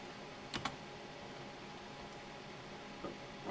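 A couple of sharp computer keyboard key presses click close by during 3D modeling work, followed by another light tap, over a steady fan-like hiss.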